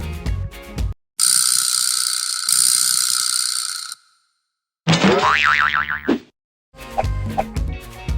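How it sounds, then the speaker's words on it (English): A vibraslap, the percussion instrument with a wooden ball and a hinged box of loose metal teeth, is struck and gives a loud buzzing rattle that decays over a few seconds. It is heard alone between other brief instrument sounds. "Vibra slap."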